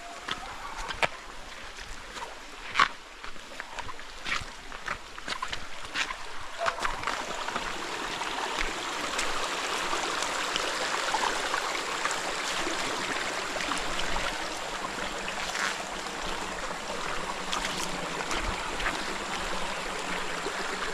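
A shallow stream flows and babbles steadily on the path to Iringan Falls in Pagbilao, Quezon, a constant close wash of water with occasional sharper splashes early on.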